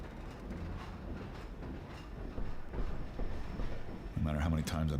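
A train ride in the video game Half-Life 2: a continuous low rumble with rhythmic clickety-clack from the wheels, swelling into louder, heavier clatter near the end, with a voice talking over it.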